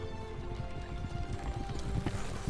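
Horses' hooves clip-clopping in a radio drama adaptation of The Chronicles of Narnia, a steady rhythmic patter of several hoofbeats at moderate distance, heard alone without speech.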